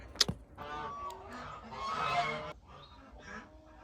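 Chickens call out on a cold January farm in Tennessee after a winter storm, with a few faint, scattered squawks and honking clucks that are distant and soft against quiet background noise.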